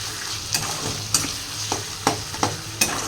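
Ginger garlic paste sizzles in a frying pan as a spoon stirs it. A steady fry hiss runs under sharp, repeated scrapes and taps of the utensil against the pan, with no talking.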